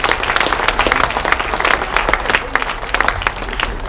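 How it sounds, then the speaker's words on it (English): A crowd gives a warm round of applause for a young girl, with dense, uneven clapping that carries on steadily for several seconds, some claps standing out sharply and close. "Can we give her a big round of applause?"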